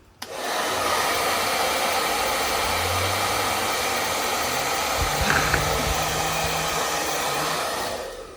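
A hair dryer blows steadily and loudly into a computer case to clear out dust, its broad whooshing roar running unbroken for several seconds with a brief clatter partway through.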